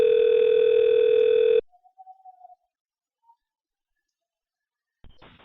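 Steady telephone dial tone from a VoIP softphone on a computer, loud and continuous for over a second, then cutting off into faint short blips and near silence before another brief sound at the end.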